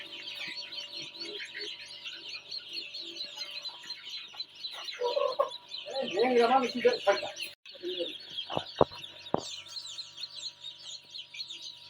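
Small chicks and desi hens clucking and peeping in a shed near an egg incubator, a busy steady chorus of close chirps with a louder burst of clucking in the middle and a few sharp knocks near the end.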